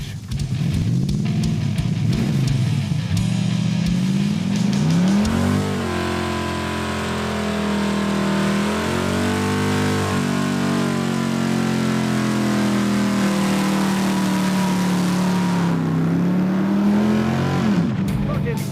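A Dodge Coronet engine roars up through the revs, pitch climbing and settling, loud and close throughout, with a voice briefly audible near the start.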